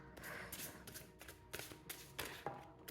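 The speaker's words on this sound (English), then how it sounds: "Let's see, 3 shuffles." Tarot cards are shuffled up close in a series of quick riffling, tapping bursts, soft and uneven over a few seconds.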